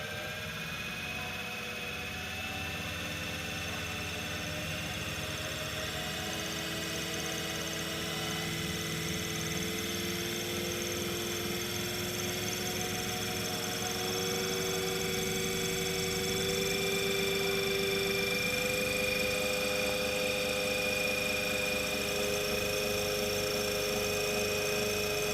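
Synchronous generator spinning at 1500 rpm with no load, giving a steady mechanical hum with tonal whine and a faint rising pitch, continuous and moderately close throughout.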